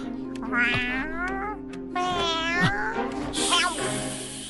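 A cat meows three times in long, wavering, insistent cries, close and fairly loud, with brief pauses between them.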